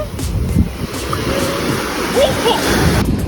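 Sea waves washing up over a sandy beach, a continuous loud wash of surf with wind noise buffeting the microphone, and a voice faintly present in the background.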